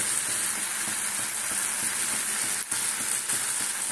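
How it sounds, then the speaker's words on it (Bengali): A spice mix with chilli powder for a potato curry frying in a pan, a bright, steady hiss with soft stirring scrapes, close and continuous, one brief dip near the end, no voices. "এটাকে কষাবো, তারপর এই মশলাটা কষাচ্ছি"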